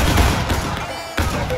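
A massed musket volley from a line of soldiers in the Civil War shooter War of Rights, at an Antietam battle event: a dense, roaring wall of overlapping shots that swells again near the end, loud and close.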